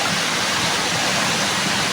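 Water flows steadily in a stream, a dense, continuous rushing wash that stays close and loud for the whole stretch with no voices.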